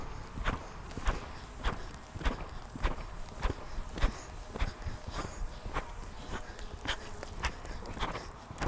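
A mare's hooves clip-clop in a steady, even rhythm during a riding lesson, each footfall a sharp distinct knock repeating about twice a second, moderately close, with no talking over it.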